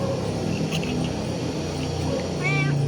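A cat meows near a person who is opening a can of sardines to feed it, with short mews over steady background noise and a louder call near the end.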